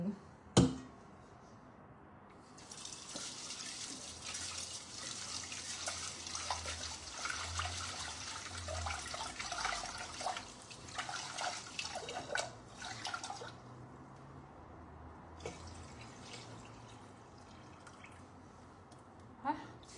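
Water is poured out and splashes into a container until it turns cloudy, irregular trickling and gushing bursts close by, with talk heard at moments.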